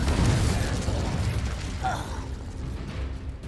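In the video game Hogwarts Legacy, a Confringo spell goes off as a loud, rumbling burst at the start that slowly fades into a lingering hiss.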